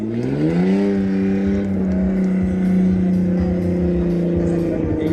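A stunt car at the Chambley drag power show drives on two wheels, its engine revving and then holding a loud, steady drone close by, with a crowd and commentary faintly underneath.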